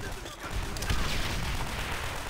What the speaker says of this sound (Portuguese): Tá um tiroteio insano aqui.